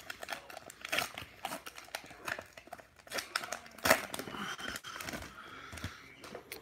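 Pokémon booster packs are torn open by hand, with quick crinkly foil rips and rustling bursts that repeat irregularly, close to the listener and fairly quiet.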